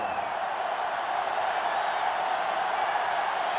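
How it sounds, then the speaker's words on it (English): Steady stadium crowd roar from a sellout college football crowd in NCAA Football 2005, a constant dense wash of noise with no distinct cheers or voices standing out. "This sellout crowd is really making a difference now as these guys can't even call the play."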